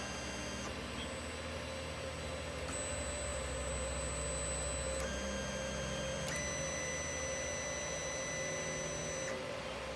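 An i3mini 3D printer hums steadily with layered electronic tones that shift pitch in steps as its motors start up after the nozzle reaches 210 degrees, close and constant.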